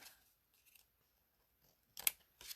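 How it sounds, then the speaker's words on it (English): Scissors snipping away excess paper on a handmade card, a few quiet cuts near the start and a louder, sharper pair of snips toward the end in an otherwise quiet room. "I'm going to find my scissors, come back here and cut off the excess."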